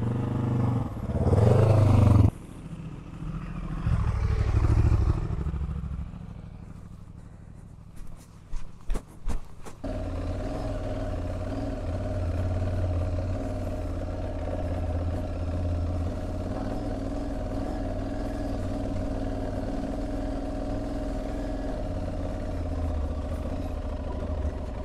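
A maxi trail motorcycle on a dirt track revs loudly in a few bursts, goes quiet with some clicks, then settles into a steady, close engine drone that carries on to the end.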